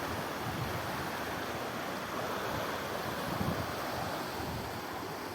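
Floodwater of the swollen Ganga river rushes past in a constant broad roar, heard from the bank with wind buffeting the microphone and no one speaking.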